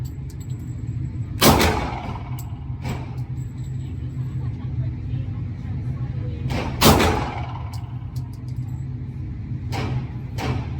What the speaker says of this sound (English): So we about to shoot the Smith & Wesson SD40 VE.